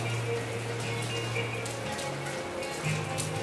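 Pouring rain falls outside a school building, a steady dense patter of drops on surfaces lasting throughout, with a low steady hum beneath and no talking.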